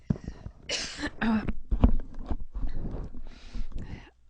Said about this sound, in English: I'm going to cough here.